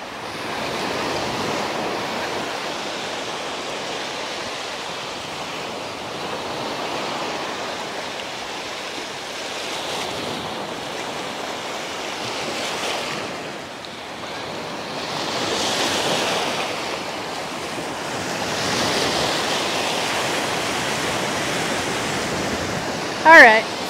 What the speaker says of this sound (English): Surf is really something here though.